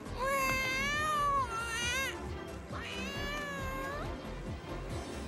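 A cat meows twice in long, drawn-out, plaintive cries, close and loud, against a low background rumble.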